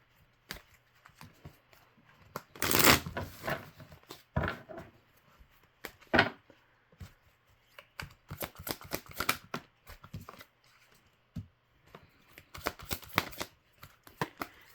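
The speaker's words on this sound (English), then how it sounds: "Let me go ahead and pull a few more cards on this." Playing cards shuffled and drawn from a deck, with crisp riffling bursts and scattered snaps and slides, close and fairly quiet, no talking.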